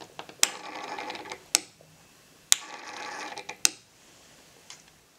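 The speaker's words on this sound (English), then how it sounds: "you can move the drive manually by pressing the keypads." A SIKO AG24 actuator with an integrated gear set and brushless DC motor runs in short bursts with a whirring gear hum, each start and stop marked by a sharp click, four runs in quick succession.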